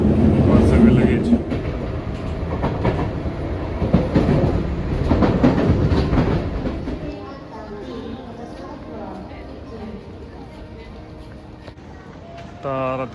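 A passenger train rumbles steadily along its rails in Japan, with rhythmic clickety-clack and a loud wheel roar that eases off midway, while faint voices murmur in the carriage.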